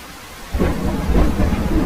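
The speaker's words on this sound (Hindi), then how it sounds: "बारिश बहुत तेज थी।" Heavy rain in a cartoon forest storm, quiet at first, then a deep thunder rumble rolls in at about half a second and a steady, loud downpour continues with it to the end.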